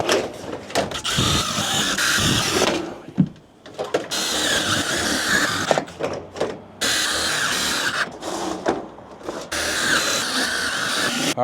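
A power driver sinks screws into tin roofing sheets on a backyard playhouse in repeated loud bursts of whirring and grinding, separated by brief pauses and handling clatter.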